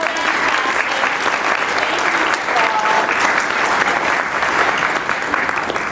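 A grand opening crowd applauds the site superintendent with thick, continuous clapping that stays loud and even throughout, and a few voices are faintly mixed in.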